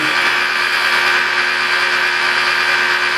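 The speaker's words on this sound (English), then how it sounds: "protect that edge so I don't burn through it with the polisher either" A rotary car polisher with a wool pad running at about 1500 to 2000 RPM on black paint, a loud, steady, close whirring drone that holds unbroken throughout with no talking.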